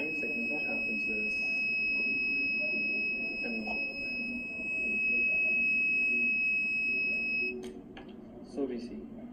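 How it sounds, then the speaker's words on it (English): An alarm triggered by a pressure sensor reading below threshold sounds as a steady, continuous high-pitched electronic tone, constant throughout with background room noise and brief knocks near the end. "an alarm is raised and the alarm is turned on"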